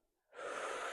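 Deep inhaled breath during a calming no-equipment Pilates session, a soft airy intake starting after a brief silence and swelling steadily, close and alone.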